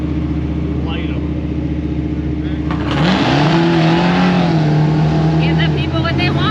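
At a Power Tour car gathering, an engine idles with a rumble before a sharp jump into a loud, screaming rev of a burnout, holding high and steady for several seconds amid crowd noise.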